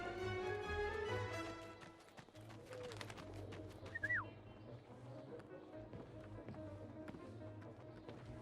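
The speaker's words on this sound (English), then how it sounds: "Damn bird. Pigeon a-t-il pu entrer ici?" A pigeon coos indoors in 11-11 Memories Retold, a soft burst of cooing and a short flutter-like call over a quiet room ambience, with no talking.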